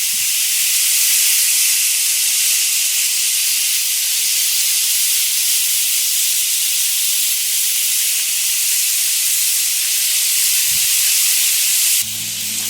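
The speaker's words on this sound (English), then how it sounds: "So now I'm going to cook them for a little while on one side, and then I'm going to flip them over." Filipino pork BBQ cooks on a new Blackstone griddle with a loud, steady, close hiss of sizzling that runs unbroken and shifts briefly at the very end.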